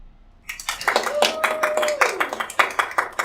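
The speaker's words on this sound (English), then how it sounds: "we're going to give you a lovely round of applause" A small live audience on a morning show breaks into a round of applause, quick, uneven hand claps close by that start abruptly and carry on for a few seconds, with a brief sustained vocal tone mixed in.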